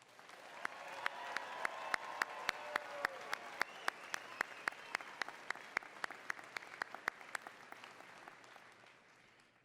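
A commencement audience applauds the Spring 2017 graduating class of the University of Wisconsin-Parkside, steady broad clapping filling a large hall for nearly ten seconds, with sharp individual claps standing out against a dense wash of hands.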